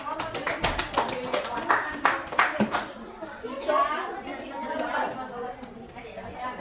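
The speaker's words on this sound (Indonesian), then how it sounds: "Oke, kita kasih aplaus dulu." A group applauds after a classroom group presentation, with brisk scattered clapping for a couple of seconds that fades into murmured chatter and voices.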